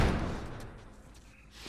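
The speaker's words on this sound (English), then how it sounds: "Barricade the doors." Heavy doors slammed and barricaded in The Last of Us, a loud thud at the start decaying into rumbling echo, with another faint knock near the end.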